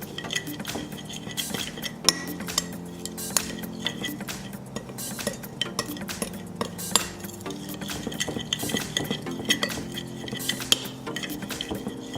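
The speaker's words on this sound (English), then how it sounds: "then we mix all that up" Steak and vegetables being stirred together in a single pan, with utensils clinking and scraping against cookware in a steady, irregular rhythm, close and moderately loud with no talking.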